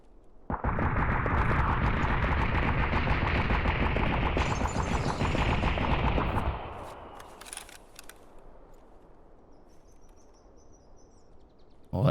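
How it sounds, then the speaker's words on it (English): Sustained burst of gunfire in Escape from Tarkov, loud and dense for about six seconds, then cutting off to faint ambient background with scattered distant pops. "Well, that shooting didn't even kill anything"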